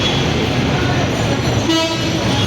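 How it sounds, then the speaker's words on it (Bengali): A horn toots over a steady roar of busy street traffic while a long train passes a level crossing in a jammed road; the noise stays loud and dense throughout, with the horn sounding near the end. "এই যে ট্রেনটা আসলো আরেকটা ট্রেন যাচ্ছে"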